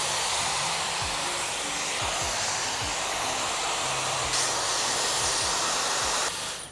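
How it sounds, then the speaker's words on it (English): A hair dryer fitted with a diffuser blows a loud, steady broadband rush while drying curly hair, holding constant for several seconds before cutting off near the end, with low thumps of handling underneath. "drying her hair with the diffuser from the front"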